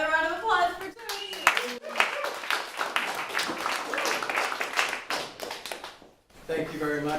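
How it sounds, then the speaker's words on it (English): Another round of audience applause for a poet at a reading, a short, sparse clapping spread under someone talking loudly over it. "Another round of applause for Tony."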